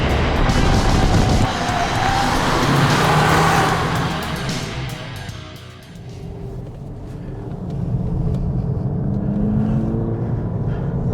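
A 2022 Volkswagen Polo GTI on Michelin tyres accelerates hard down a track straight, its engine roaring loud and close before easing briefly and building again as it pulls on.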